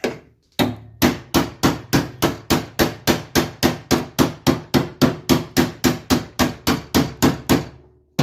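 A hammer taps a part into place on a Dentside Ford F350 frankentruck, striking about twenty sharp, evenly spaced blows up close after a short pause.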